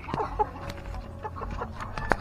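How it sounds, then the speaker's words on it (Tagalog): Chickens cluck nearby in short, scattered calls over quiet outdoor background noise, one sharper cluck standing out near the end. "ito yung mga manok natin mga kabisdak"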